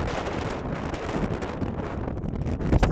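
Extreme wind roars at Lake Tennyson while camping, buffeting the microphone in a constant, loud, rough rush with gusty surges and a sharp blast near the end.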